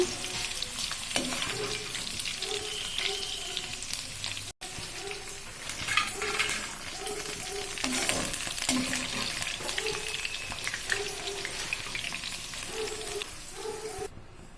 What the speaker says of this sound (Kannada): ಚೆನ್ನಾಗಿ ಫ್ರೈ ಆಗಬೇಕು ನೋಡಿ ಚೆನ್ನಾಗಿ ಫ್ರೈ ಆಗಿದೆ